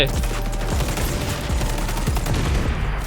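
Rapid, continuous bursts of machine gun fire in the video game XDefiant, loud and close, rattling without pause through the whole moment.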